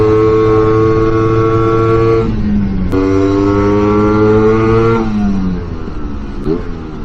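A scooter engine revs loudly while climbing a 12% grade, a close steady drone that rises in pitch through several shifts, then drops and fades slightly at the end.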